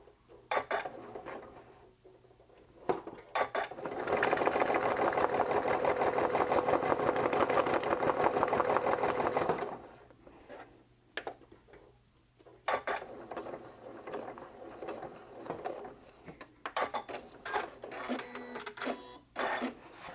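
Sewing machine doing free motion stitching on a mixed media appliqué background, a dense rapid mechanical whir running steadily for several seconds, close and loud, framed by quieter handling sounds before and after.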